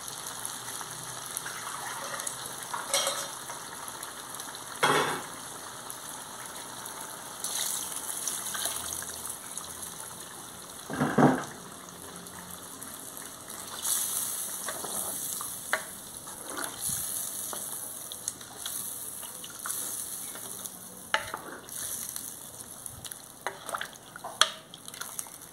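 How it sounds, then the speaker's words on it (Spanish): Chicken giblets frying in a sauce in a pan give a steady low sizzle with bubbling and occasional stirring scrapes, quiet and continuous with a few louder clatters. "Ahora ya está bien frito la menudencia,"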